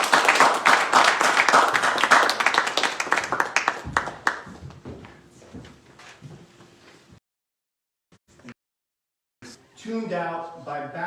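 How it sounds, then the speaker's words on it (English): A live reading audience applauds a poet with loud, close clapping that fades over several seconds into scattered claps. A pause follows, and then a voice starts speaking. "Give him a round of applause."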